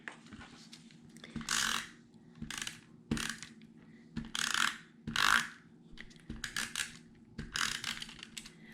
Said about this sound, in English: the cuts that the Cricut makes are so cool and so tiny